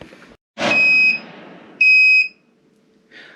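An ultrasonic cleaner, warmed up and ready for a snowblower carburetor, gives two clear electronic beeps of about half a second each, followed by a fainter short tone, in a quiet room.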